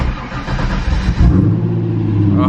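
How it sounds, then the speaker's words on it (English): A C5 Corvette with a Billy Boat exhaust cold-starts: the engine cranks and fires up, settling into a loud, deep, rumbling idle close by. "Cold start with the new Billy Boat exhaust."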